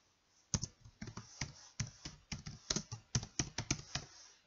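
Someone types on a computer keyboard during an online lesson: a steady stream of crisp, close key taps in quick, uneven bursts, with no other sound.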